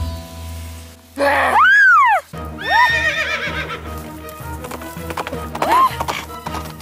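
A horse in a video game gives a loud, rising-and-falling neigh, then a second whinny with snorts and clip-clopping hooves, ending in a shorter neigh, all close and without talk.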